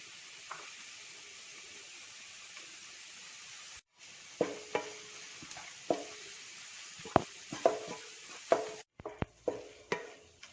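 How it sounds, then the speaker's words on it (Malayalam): Curry leaves crackle and sizzle in hot oil for a prawn roast, a steady frying hiss broken by repeated scraping stirs and sharp spatula knocks against the pan. "വേപ്പില ചേർക്കുന്നു."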